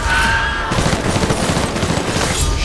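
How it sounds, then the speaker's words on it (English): A loud burst of rapid gunfire from The Predator movie trailer, dense overlapping shots and impacts filling the short stretch, with no one talking over it. "Shooting in all directions."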